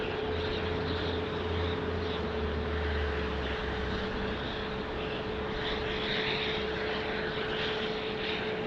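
A Delta Air Lines Boeing 757-300 arrives at Phoenix Sky Harbor Airport, giving a steady, loud engine roar with a constant whine that fills the whole clip without a break.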